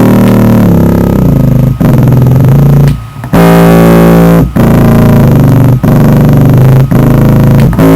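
A heavily distorted four-string bass guitar note, tuned down to A, rings out loud and sustained, struck again several times in steady succession.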